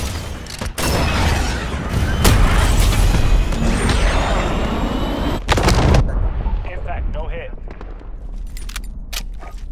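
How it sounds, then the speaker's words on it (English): A cruise missile strike in the video game Call of Duty Modern Warfare, with loud blasts and booming impacts, sharp cracks and rumbling debris, then a quieter tail with scattered clicks and faint distant pops. "Cruise missile ready."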